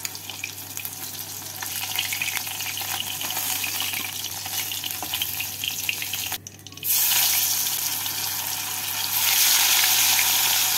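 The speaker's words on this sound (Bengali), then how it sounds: "এই বাকি মাছগুলোকেও এইভাবে ভেজে নেব" Mrigel fish frying in oil, a continuous dense sizzle that briefly drops out, then returns louder and fuller, steady crackling throughout.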